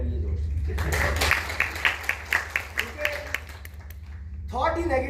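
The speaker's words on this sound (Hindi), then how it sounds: "तालियां बजाने अपने लिए दोस्त" Participants in a fitness session clap for themselves: a run of separate, fairly close claps in a loose rhythm under a low hum, with someone talking before and after.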